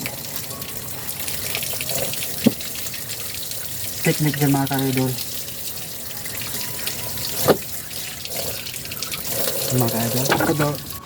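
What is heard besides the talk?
running tap water over jackfruit while peeling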